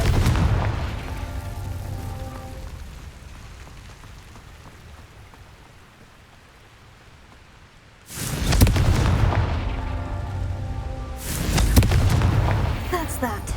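Two Confringo explosive spell blasts in Hogwarts Legacy break a quiet stretch, each a sudden loud booming burst with a rumbling tail, the second arriving a few seconds after the first.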